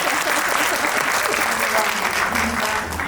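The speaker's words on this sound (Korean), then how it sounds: "우선 심은경 배우의 높은 안목에 큰 박수 보내드리고요" A theater audience at a film screening Q&A with actress Shim Eun-kyung gives loud, sustained applause, a thick continuous roar of clapping with a voice faintly talking beneath it.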